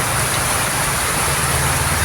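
Steady rain pours down on farmland after a long hot spell, a dense, even hiss close by with no break across the short stretch.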